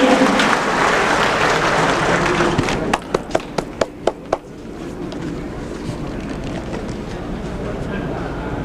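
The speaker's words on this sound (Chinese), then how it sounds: "我们再一次给我们张将军一个鼓励的掌声" Audience applause for a general at a Veterans Day ceremony, a dense wash of clapping with crowd murmur that gives way to a few sharp separate claps, then fades into quiet room noise.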